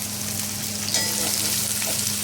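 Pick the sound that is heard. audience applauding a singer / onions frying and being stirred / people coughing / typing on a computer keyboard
onions frying and being stirred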